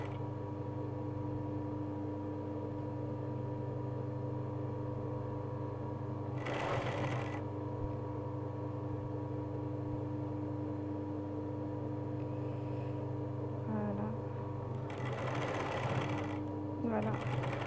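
A sewing machine stitches a trouser hem, its motor giving a steady, close mechanical drone with a fast rhythmic whir that runs without a break, broken only by brief rustling of fabric.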